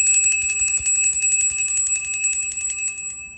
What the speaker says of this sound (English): I'm gonna ring my bells, okay? I'm gonna bring in that grounding energy.